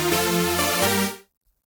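Sustained synth chords for an EDM drop ring out loud and steady for about a second, shift once partway through, then cut off into silence.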